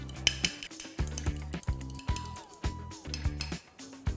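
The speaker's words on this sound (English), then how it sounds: "Simply whisk it up." Whisk clinking rapidly against a bowl while beating a vinaigrette seasoned with black pepper, coriander seeds and thyme, with sharp metallic ticks in bursts, close and fairly loud, and no talk.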